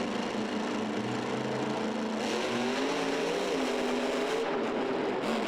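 Grave Digger and Gunslinger monster trucks racing off the starting line at the Georgia Dome in Atlanta, a continuous loud engine roar with rising and falling revs that fills the arena, no voices heard.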